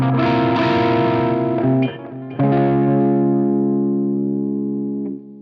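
An electric guitar on the bridge pickup plays through a Sheriff 22 amp with a vintage tone, sounding a loud sustained chord, a brief choppy break, then a second chord that rings and slowly fades over about three seconds, no voices.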